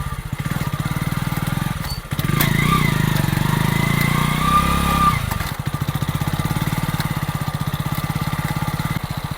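Hero Splendor motorcycle engine running steadily on a test ride after new brake shoes were fitted, a close, even putter that rises briefly to a louder rev in the middle before settling back.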